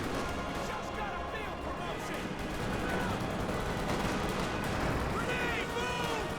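A Company of Heroes battle with a Sherman Easy 8 tank under fire: dense, overlapping gunfire and explosive bursts crackle continuously at moderate loudness, with voices mixed into the din.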